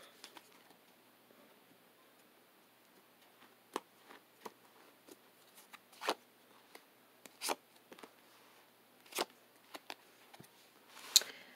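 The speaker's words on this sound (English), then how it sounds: "Let's just shuffle a few more times." Tarot cards are shuffled by hand close by in a quiet room, making soft, irregular riffles and light taps with pauses between them, and no one talks.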